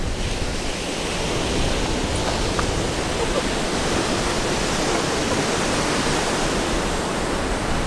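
Steady, dense roar of surf breaking on a beach in Mexico, continuous and fairly loud throughout, with a faint hiss of wind.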